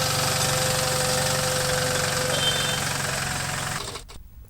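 A sanitizing machine mounted on a mini tractor runs with a steady, knocking engine thrum and faint mechanical whine, then cuts off abruptly near the end.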